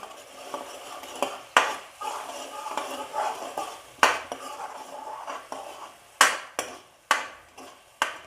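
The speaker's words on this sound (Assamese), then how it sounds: "আৰু এতিয়া মই অকণমান এনেদৰে লৰাই দিম" Turmeric and spices are stirred in a metal pan for egg curry, with sharp scrapes and clinks of the utensil against the pan recurring irregularly over a faint frying hiss, close up.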